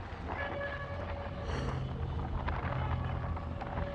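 A train rumbles steadily with a low mechanical drone, a faint horn-like tone threading through, and no voices.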